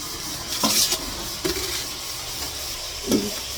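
Meat cooking in a pan in a home kitchen, with a soft steady sizzle of frying underneath and a few brief stirring scrapes and clinks recurring at intervals.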